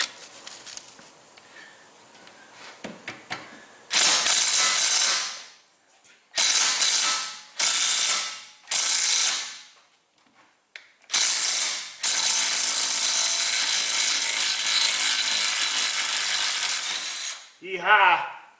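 Air impact wrench running off a compressor hose, rattling loose Subaru ball joint bolts in a garage: several loud hammering bursts of a few seconds each with short pauses between, ending in one long sustained run.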